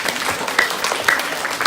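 A crowd at a college awards ceremony claps steadily for about two seconds, a dense, fairly loud patter of many hands with a few sharper claps standing out.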